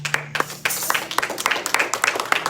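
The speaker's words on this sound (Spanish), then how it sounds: "Demos un aplauso al Señor" A church congregation claps for the Lord during a Spanish-language sermon, producing a fast, fairly regular run of bright hand claps that fills the room, with a faint voice underneath.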